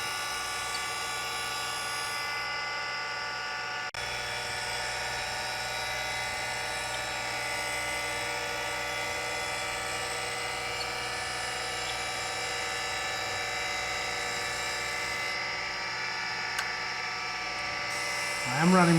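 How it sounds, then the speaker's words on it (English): A grinding wheel sharpens a tapered pin reamer, giving a steady, strongly tonal motor whine with a dense row of harmonics and a faint grinding hiss, holding at an even level throughout. "we're just going to touch off and start sharpening this guy up"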